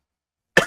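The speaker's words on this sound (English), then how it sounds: "I'm gonna hurry up because I'm coughing a lot." A single short cough, close and fairly loud, arriving after a stretch of silence and fading quickly.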